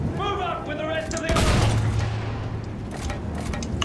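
An anti-tank cannon and gunfire ring out in the video game Battlefield 1: a heavy boom lands mid-clip among scattered shots and crackling bursts, with in-game voices heard near the start.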